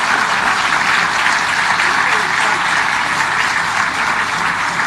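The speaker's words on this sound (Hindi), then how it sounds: "एक बार और ताली" A large crowd at a Ram Katha religious discourse gathering applauds, a dense, loud, continuous wash of clapping that holds steady for the whole stretch with no break.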